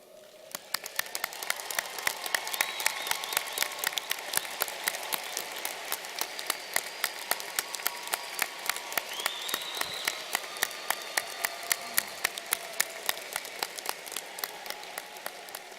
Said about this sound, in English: Please stand at this time for a round of applause.